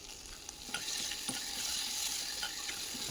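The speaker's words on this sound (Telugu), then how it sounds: "తర్వాత టమాటా కూడా వేసుకొని ఫ్రై చేసుకోవాలి" Baby potatoes and tomato frying in a pan, a steady bright sizzle broken by scattered scrapes and taps of stirring, close and fairly soft throughout.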